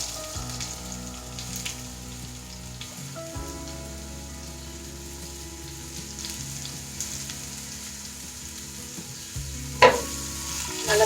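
Raw papaya pieces fry in a pan with curry, giving a continuous soft sizzle broken by occasional scraping and stirring, plus a sharp clatter near the end.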